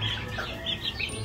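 Chickens, including young pullets, cluck softly on a California poultry farm in a steady low murmur of close, overlapping calls with no talk.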